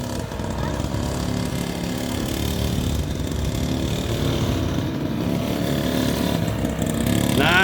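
Small engine of a Grave Digger super mini monster truck revving steadily as it attempts a wheelie, a buzzing, moderately loud drone with people talking nearby.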